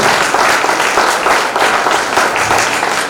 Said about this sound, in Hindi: मैं सभी से अनुरोध करूंगा कि जोरदार तालियों से